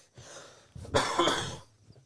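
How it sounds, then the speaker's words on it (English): A man coughs once, a short harsh throaty burst with a bit of breath before and after it, close to the microphone. "I coughed on the ground, bro."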